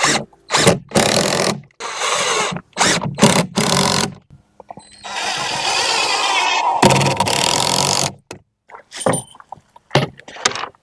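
A power drill drives 2.5-inch deck screws into wood on a 5-gallon bucket container garden build: several loud, short bursts, then one long sustained run and a few brief final spurts, with no talking.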